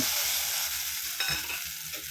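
Tamarind paste frying in oil for tamarind rice, a continuous bright sizzle with a brief stir or clink partway through, close by and without talk.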